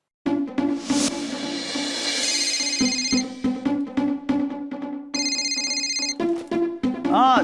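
A phone plays a melodic ringtone, a bright repeating tune of electronic tones with brief pauses, clear and close.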